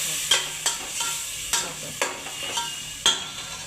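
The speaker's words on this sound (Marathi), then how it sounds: "वाटलेलं वाटण टाकायचं. चांगलं फ्राय करून घ्यायचं." Ground spice paste fries in hot oil with a steady sizzle while a spoon scrapes the pan in regular sharp strokes, about seven in a few seconds, close and clear.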